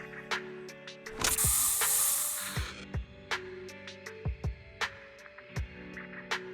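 A special spray is fired at the player in the video game Zenless Zone Zero: a loud hissing burst of about a second and a half, then sharp clanks and thuds with a low hum underneath.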